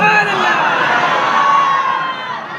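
A crowd at a religious gathering raising a loud sustained shout of a chanted slogan, many voices merging into one roar that fades slightly at the end.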